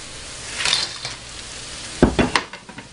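Cauliflower florets dropped into a pan of golden-brown fried onions set off a close, loud sizzle, with a crackling burst and a few clattering stirs.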